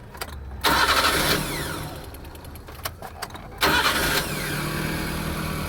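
A Changan Karvaan Plus engine, its idle speed control valve just repaired, cranks and starts twice, each start followed by a smooth steady idle close by, with a few clicks in between.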